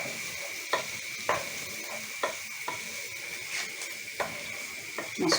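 Lentils sauté in a pot for lentil soup. A soft steady sizzle is broken by a regular series of sharp spoon scrapes and taps against the pot, close and fairly quiet, with no voices.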